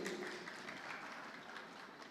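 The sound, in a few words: applause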